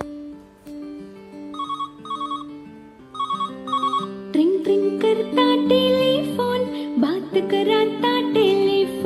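A telephone ringtone trills in short repeated bursts, then a louder melodic tune takes over.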